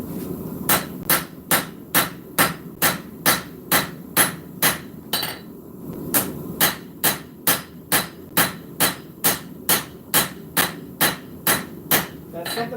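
A big hammer strikes hot steel at a forge to flatten it, delivering about two dozen loud, evenly spaced ringing blows in a steady rhythm, with only a short pause midway and faint room noise between strikes.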